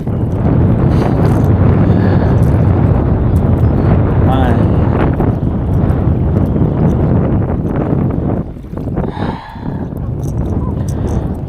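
Loud, gusty wind buffets the microphone at a waterside fishing spot, roaring almost continuously and easing briefly near the end.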